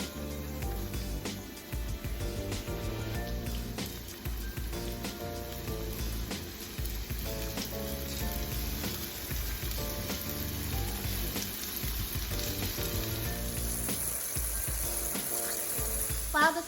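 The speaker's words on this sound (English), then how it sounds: "While the fish is frying," Seasoned, floured fish fries in a hot pan with a steady, crackling sizzle that runs continuously throughout, close and moderately loud.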